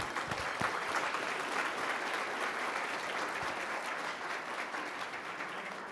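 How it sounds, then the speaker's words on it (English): An audience at a social care research and policy plenary applauds its panelists with dense, steady clapping that fills the room evenly and stays strong throughout, with no voices standing out. "let's give our esteemed panelists a round of applause"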